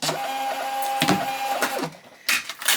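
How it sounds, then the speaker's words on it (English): A laser printer at a home shipping station runs through a print job, a steady mechanical whir with several louder feed bursts and clicks, close and alone. "I love that I have a laser printer now."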